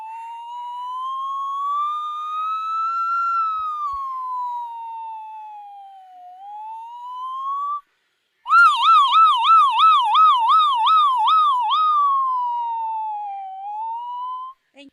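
A voice imitates an ambulance siren, first as long, slow rising and falling wails, then a brief gap and a fast warbling yelp, loud and clear with no other sound.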